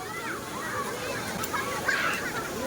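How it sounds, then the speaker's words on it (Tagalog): A waterfall on an island rushes as a steady broadband wash of water, heard under continuous nearby voices of people talking. "Tapos dito yung falls natin, oh."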